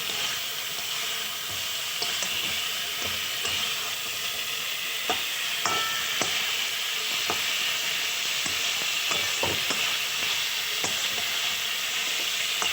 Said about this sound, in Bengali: এবার আমি ভেজে রাখা মাছগুলো দিয়ে কষা করে নেব